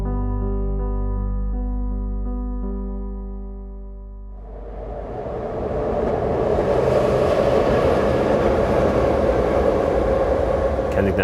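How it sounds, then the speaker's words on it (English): An elevated train passes overhead on Kensington Avenue. A low tonal hum gives way to a rising, loud rumble and clatter that stays heavy to the end. "Kensington Avenue runs under an elevated train, they call it the L."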